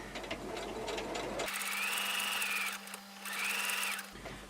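A sewing machine stitches in the ditch along quilt binding, its motor whirring steadily in two close, even runs separated by a brief pause.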